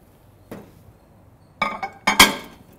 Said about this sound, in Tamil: ஸோ இதை வந்து நான் மைக்ரோவேவ் அவன் உள்ளே வைக்கிறேன்.